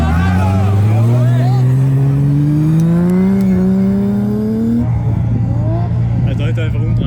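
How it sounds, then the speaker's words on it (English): A 1000-horsepower Toyota Supra, the "White Widow," drag racing up a ski slope, its engine revving loudly with a steadily rising pitch before dropping off, with crowd noise and voices in the background. "1000 horsepower Supra."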